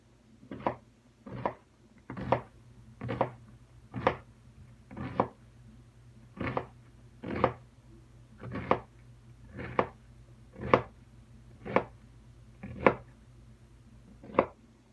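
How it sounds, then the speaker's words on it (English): Knife shredding a small head of red cabbage on a cutting board, roughly a dozen crisp, evenly spaced chops close up, no talking. "I just got a head of red cabbage because it was smaller. So we're just going to finely shred it"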